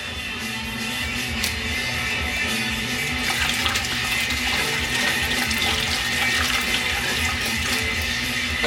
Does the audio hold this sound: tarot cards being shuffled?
no